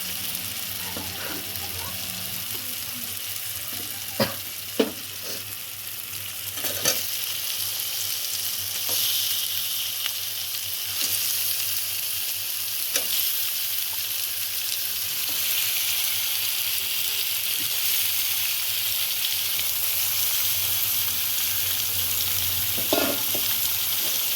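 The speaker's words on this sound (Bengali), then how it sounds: "আমার মশলাটা কষা হয়ে গেছে, আমি মাংসটা দিয়ে দিচ্ছি।" Broiler chicken pieces added to a pan of cooked-down ginger-garlic spice paste, a continuous close sizzle with scattered stirring knocks and scrapes throughout, no voices.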